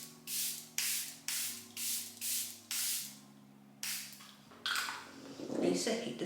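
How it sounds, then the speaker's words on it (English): A Charlotte Tilbury Airbrush Flawless Setting Spray gives about seven sharp, close hissing pumps in a steady rhythm, each about a third of a second long. Some rustling and handling noise follow, with a faint background tone. "This is the Charlotte Tilbury Airbrush Flawless Setting Spray."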